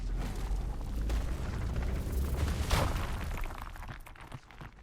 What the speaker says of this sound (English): Can I rock explode my way out of here?